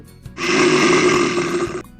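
A deep, guttural monster roar bursts out loud and sustained for over a second, rough and growling, then cuts off abruptly.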